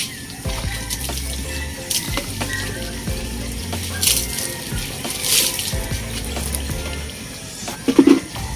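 Water runs steadily from a household tap into a sink, a continuous close splashing hiss with small shifts in flow and a brief clatter near the end.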